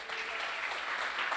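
A church congregation claps together in a steady, dense burst of applause filling the room, loud and continuous throughout.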